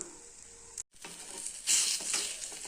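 Egg omelette batter with chutney sizzling and frying in a hot pan, a steady close hiss that briefly drops out and then swells louder as it cooks.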